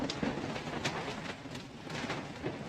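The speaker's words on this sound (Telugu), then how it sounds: "అండ్ ఇది మెయిన్ వాటర్ ఫాల్స్." Steady broadband roar of the main waterfall at Hogenakkal in Tamil Nadu, heavy falling water with spray like rain, continuous and close, no talk.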